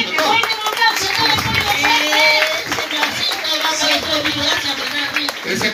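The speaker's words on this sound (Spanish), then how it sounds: "Quiero escuchar un aplauso de todo el público que ha venido esta tarde." An audience at a Salvadoran comedy show claps in a dense, continuous round of applause, with scattered voices and cheers mixed in.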